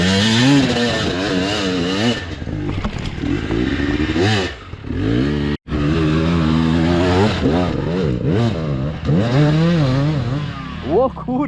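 A motorcycle engine revs hard and continuously, rising and falling in pitch, loud and close, with a brief cutout midway.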